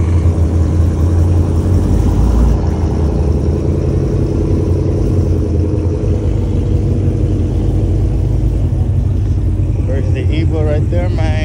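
Loud, continuous engine rumble from drag race cars, a built Evo 10 and a whipple-supercharged 5.0, idling and revving close by, with voices talking over the roar throughout.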